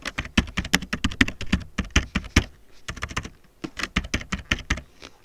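Rapid clicking keystrokes on a computer keyboard as an answer is typed, in quick close bursts with a brief pause before typing resumes.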